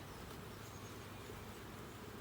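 Honey bees hum around an open hive during an inspection, a steady, dense buzzing that stays even and close throughout with no speech.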